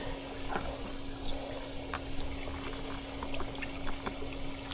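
Water rushes steadily through a garden hose during routine flushing maintenance, a continuous close hiss with a faint steady hum and small splashy ticks throughout, with no talk.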